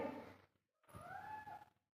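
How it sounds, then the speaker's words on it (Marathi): A mother cat and her kittens crying out, two drawn-out meows separated by a short pause, fairly close and clear with no talking over them. "मांजराची पिल्ली लागलीत वरडायला आणि ही मांजर त्याची आई आहे, चालले त्यांच्या पिल्लाकडं"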